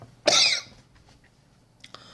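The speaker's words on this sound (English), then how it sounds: "had to clear my throat there." A man clears his throat once, loud and close, in a short rough burst, followed by a few faint small mouth sounds.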